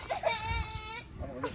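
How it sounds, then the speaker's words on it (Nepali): A small baby goat bleating up close on a farm during a short hike, a thin wavering cry lasting about a second, with a voice talking around it. "बेबी बाख्रा रहेछ सानो"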